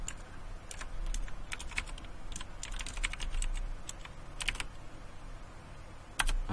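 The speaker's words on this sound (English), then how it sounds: "So let's type that in really quickly." Quick, light clicks of typing on a computer keyboard as a username and password are entered, irregular bursts of keystrokes close up over quiet room tone, with a sharper key press near the end.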